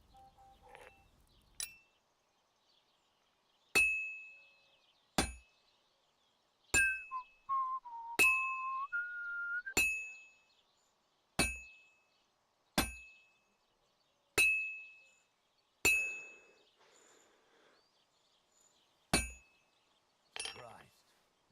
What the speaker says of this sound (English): Put it on the anvil so we can start beating it down.